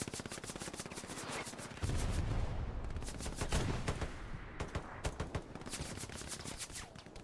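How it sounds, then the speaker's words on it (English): Rapid rifle and machine-gun fire from a Hell Let Loose online battle, continuous crackling bursts with heavier low thumps, dense and loud throughout. "Shots coming in."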